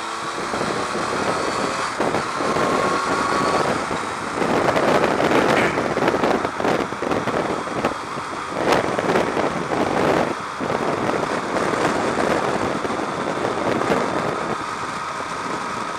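Riding a bike: a steady engine drone blends with constant rushing wind noise buffeting the microphone, holding a fairly even level for the whole stretch with brief swells.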